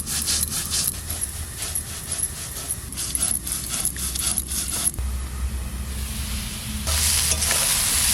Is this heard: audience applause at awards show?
no